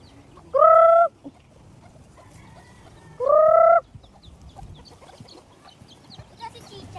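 A hen gives two loud, short clucking calls close by, a few seconds apart, against a quiet outdoor background.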